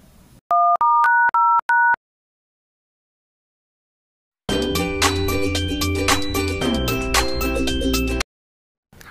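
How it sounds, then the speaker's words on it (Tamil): A telephone is used to place a call: about five quick electronic keypad beeps sound in succession, then there is silence, then a long burst of dense, bright tonal sound. "சரி ஃபோன் அடிச்சு கூப்பிடலாம்."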